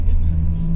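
Motorcycles and e-bikes move through city traffic in China, giving a brief, close, steady low engine rumble with a faint whir on top.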